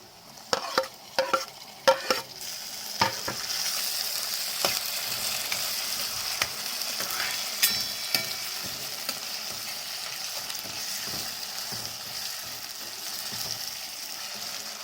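Onions and tomatoes fry in a pan for dry chicken, a steady sizzling hiss under bursts of clattering spoon strikes and scrapes early on, then quieter occasional stirring knocks, close up with no talking.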